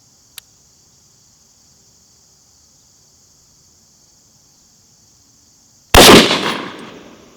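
A single loud rifle shot firing a Hornady Critical Defense 73 grain round with an abrupt sharp crack and a decaying echo, coming after a steady high insect-like whine and a tiny click.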